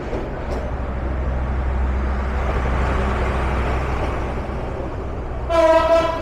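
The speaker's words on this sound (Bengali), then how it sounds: "আর বিপরীত পাশে 3000 শ্রেণীর লোকোমোটিভ নিয়ে সম্ভবত রংপুর এক্সপ্রেস প্রবেশ করছে ভীষণ বিলম্বে।" The Rangpur Express arrives behind a 3000 class locomotive with a steady low rumble of rolling wheels and wagons, and a loud horn blast sounds near the end.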